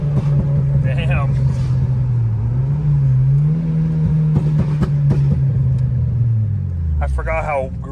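Turbocharged Acura TSX running 18 psi on a big brake setup, its engine droning loud and steady as it revs through a pull, the pitch rising and falling, with brief talk inside the car near the start and end.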